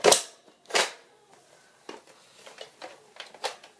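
A toy gun fires with two sharp, loud snaps close by, followed by a run of softer clicks and rattles from handling the plastic mechanism, with no talk.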